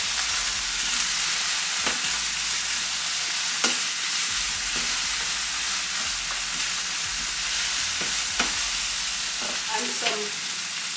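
Burger sauce of ketchup and tomato paste cooks in a pan with a steady, close sizzle that runs throughout, broken by occasional clicks and scrapes of stirring, with no talking.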